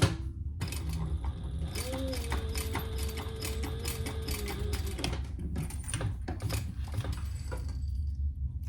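A sewing machine stitching in steady rapid mechanical bursts, close and fairly loud, with clattering needle action and a brief tonal whine partway through.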